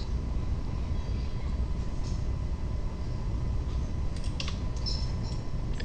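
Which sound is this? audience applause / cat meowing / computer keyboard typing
computer keyboard typing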